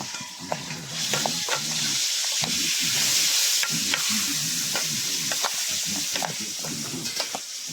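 Pork sisig sizzling loudly in a hot pan just after a splash of vinegar, a dense continuous hiss with repeated scraping and clanking of a spatula stirring the meat, close up, without speech.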